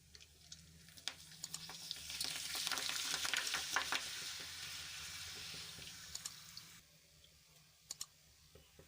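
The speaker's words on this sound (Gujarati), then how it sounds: "તો બટેટા સાથે ખાવા માટે આપણે અહીંયા ભૂંગળા તળી લઈશું" Bhungla fryums fry in hot oil with a dense crackling sizzle that swells loud in the middle, then drops away, leaving a few sharp clicks and taps near the end.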